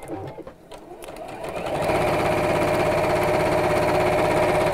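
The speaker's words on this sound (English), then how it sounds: "So I just sew those back together again." A sewing machine stitches a heart pin cushion: after a couple of seconds of quiet handling, the motor starts up into a steady, close, loud whirring run that continues to the end.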